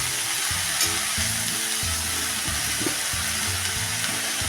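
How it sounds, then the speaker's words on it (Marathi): Fenugreek greens stir-frying in hot oil for a garlic methi dish, a dense, continuous sizzle with repeated soft thuds and scrapes of the spatula turning the leaves, close and without speech. "भाजी पण आपण चांगली तेलामध्ये एक एकजीव होईपर्यंत परतून घेऊया"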